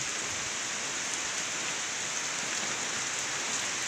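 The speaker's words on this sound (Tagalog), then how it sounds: "walang humpay na 2 araw na napag-ulan dito sa amin, na kahit paunti-unti lang hindi humuhupa yung ulan" Steady typhoon rain pours down in the Philippines in a dense, even hiss with no letup, a constant broadband wash of falling water and no voices.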